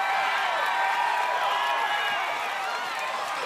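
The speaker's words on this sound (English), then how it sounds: "And listen to this crowd" Large American Ninja Warrior finals crowd in Los Angeles roaring and cheering, a thick, sustained wall of noise that stays loud and steady, dipping slightly near the end.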